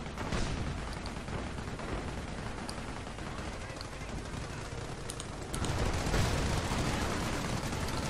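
Machine gun team firing in the Company of Heroes video game, dense continuous rattling battle noise with distant shots and explosions, getting louder in the last few seconds.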